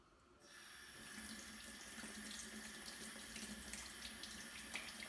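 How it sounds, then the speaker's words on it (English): Tap water running steadily over a vinegar-soaked, shell-less egg held under it, a constant close hiss and splatter that starts abruptly and continues throughout. "I'm just going to run it under some water to get rid of the"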